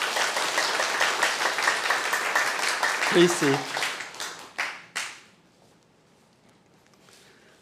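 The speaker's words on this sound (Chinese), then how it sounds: "我们再一次掌声欢迎他。" A church congregation at a Taiwanese-language Sunday worship service claps to welcome a member, dense applause under a speaking voice that fades out, followed by a few scattered late claps and near silence.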